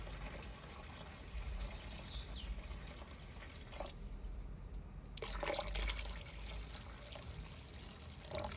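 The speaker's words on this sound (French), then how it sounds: "Alors ici l'eau que je rajoute est tiède, donc ni bouillante ni froide" Lukewarm water poured into a pot of chicken with olives, a quiet, steady trickle and splash of liquid with a few drips, heard alone at close range.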